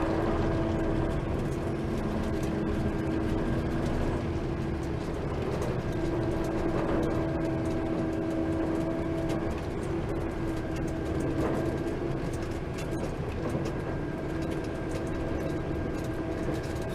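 A PistenBully 400 snowcat with a Tier 4 Cummins engine grooms snow, heard from inside the cab as a steady, droning engine rumble with a constant hum that continues unbroken throughout.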